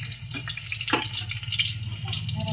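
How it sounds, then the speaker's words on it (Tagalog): Eggplant frying in a pan for a home-cooked meal gives a continuous close-up sizzle and crackle, steady throughout with no voices. "Ano po yung nagpiprito ng talong."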